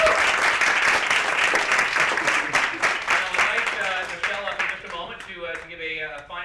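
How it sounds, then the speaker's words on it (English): Audience applause for the two panelists after an abortion debate at the University of Toronto, a dense burst of clapping that runs loud and steady, then thins and fades while a voice begins speaking over its tail. "Please, a round of applause."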